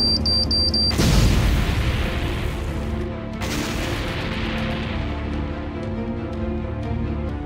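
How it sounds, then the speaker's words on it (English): A car bomb detonates as the ignition is turned on, a loud sudden boom followed by a rumbling, crackling tail and a second blast-like burst, with a long ringing aftermath. "They activate the bomb."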